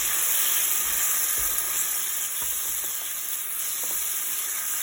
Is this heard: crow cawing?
no